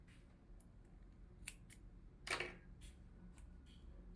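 Scissors snip through crochet yarn in a quiet room, a few faint clicks of the blades before one clear, close cutting sound, with no talking.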